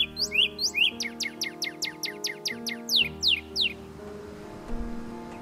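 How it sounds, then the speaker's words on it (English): A male and a female northern cardinal sing together, a rapid series of clear, downslurred whistles repeated in quick rhythm, then a quieter pause with faint chirps at the end. "male and female northern cardinals sing together and will often match songs"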